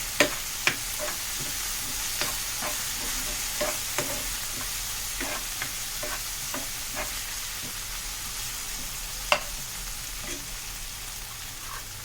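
Vegetable fried rice with tomato sauce and soy sauce stirred in a pan, a steady soft sizzle under scattered light scraping taps of the spoon, close and fairly quiet with no speech.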